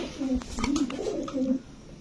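White racer pigeons at a pigeon farm coo nearby in a few low, rolling phrases, with faint background noise.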